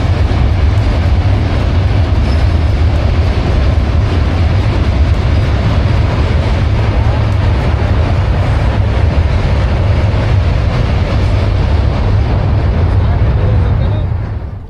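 A loaded freight train rumbles steadily across Hardinge Bridge, the 1915 British-built rail bridge over the Padma in Kushtia, a loud continuous roar with heavy low-end clatter that holds throughout and tails off at the very end.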